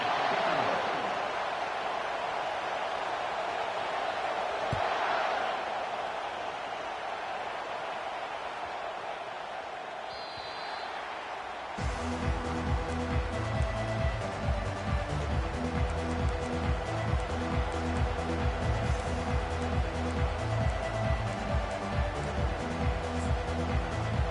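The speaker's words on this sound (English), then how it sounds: "This crowd bringing an ear-splitting welcome to their visitors." A college football video game crowd roars in the stadium as Ohio State kicks off, a steady broadband roar for about twelve seconds before a loud rhythmic band or music passage takes over.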